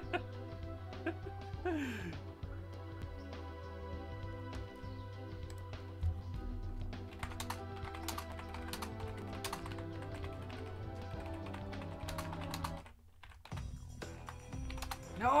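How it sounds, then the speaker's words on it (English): Keys clatter on a computer keyboard in quick, uneven bursts, fairly faint and close, alongside the steady hum of a PlayStation game, with a brief pause near the end. "I'm typing over here."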